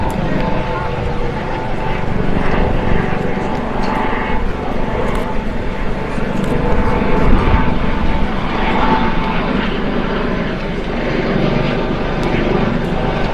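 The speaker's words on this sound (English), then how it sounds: "I believe that noise you hear is the Coast Guard helicopter flyover." A red-and-white Coast Guard helicopter flies over a Memorial Day parade, its loud rotor and engine roar a steady wash throughout, with people talking beneath it.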